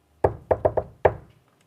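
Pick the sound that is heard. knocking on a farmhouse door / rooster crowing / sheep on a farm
knocking on a farmhouse door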